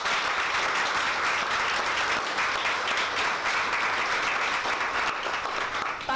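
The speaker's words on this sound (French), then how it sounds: "Alors, une bonne main d'applaudissements pour vous tous." A crowd at a product launch event applauds loudly and continuously, with a thick, even wash of clapping that holds steady throughout.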